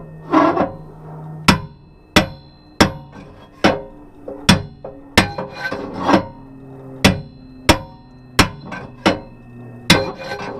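Sharp metallic hammer blows knock out a bearing race on a Bobcat 743, striking at an uneven pace, about a dozen loud hits, each ringing briefly, with scraping and shuffling between them.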